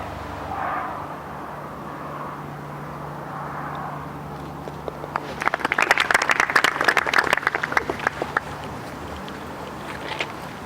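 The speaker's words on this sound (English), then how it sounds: "A round of applause" Golf spectators at the final round of the Helsingborg Open, a Ladies European Tour event, break into a short round of applause. It comes after about five seconds of quiet wind and outdoor noise, then lasts a few seconds, moderately distant.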